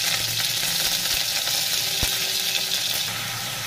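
About 300 grams of paneer frying in hot oil makes a loud, dense, continuous sizzle heard close up. One dull knock lands midway, and the hiss softens slightly near the end. No one speaks.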